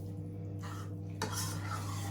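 Kitchen clatter of dishes and cutlery being washed, with a sharp clink and rattle midway over a steady low hum of running water or appliance noise.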